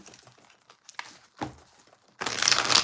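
Tarot cards are shuffled in a few soft riffling bursts, then a louder, sustained crinkly rush of cards near the end, close up with no talk.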